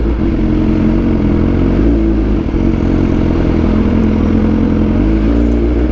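A BMW S1000XR motorcycle engine roars loud and close, holding a sustained rev with rough, clattering exhaust pops and backfire crackle throughout.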